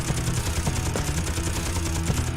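Ship-mounted guns fire at an enemy vessel in the space game Space Engineers, a dense rapid burst of repeated shots that continues without pause for the whole stretch.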